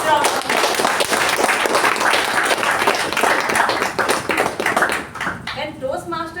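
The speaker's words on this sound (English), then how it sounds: "let's all give Toastmaster Sachin a huge round of applause" Applause from the crowd at a Toastmasters installation ceremony for Toastmaster Sachin, sustained dense clapping at close range with voices mixed in, thinning toward the end.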